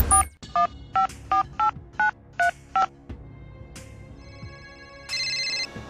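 A phone is dialed by a woman on a train, eight short evenly spaced keypad beeps in quick succession, followed by a brief pause and then a ringing tone, all clear and close.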